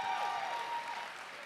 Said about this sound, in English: let's give her a round of applause as we welcome her